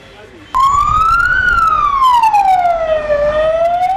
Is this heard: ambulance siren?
yes